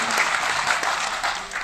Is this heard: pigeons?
no